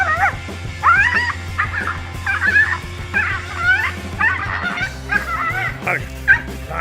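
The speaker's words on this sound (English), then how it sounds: "A tiny dog quickly regretted messing with the tegu lizard when it suddenly had enough of its annoying barking" A tiny dog barks, yips and whimpers in rapid, excited bursts at a tegu lizard, close and loud over a steady low hum, with no talking.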